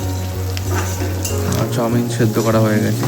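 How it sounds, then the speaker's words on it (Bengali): Eggs and vegetables fry in a wok for chowmein with a loud, close sizzle and stirring scrapes. A voice talks over the cooking in the second half. "কড়াইতে ডিম সবজি সমস্ত কিছু ভাজা হচ্ছে।"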